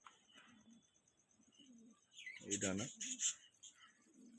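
A male Madrasi racing pigeon coos softly in low, repeated phrases nearby, then a short burst of louder wing flutter and handling noise breaks in, with quiet talking at times.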